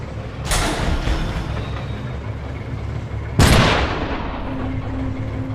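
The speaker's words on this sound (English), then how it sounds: "Let's get a shotgun turret down on the forward emplacement base to deter incoming tubes" Shotgun turret firing in the Xbox 360 game Iron Brigade: two heavy, booming blasts about three seconds apart over a dense battlefield din, with no talk.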